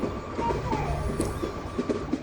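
A train runs on double-line rails toward Pahartali railway station, a continuous close rumble with rhythmic clicking wheel beats and a faint metallic squeal.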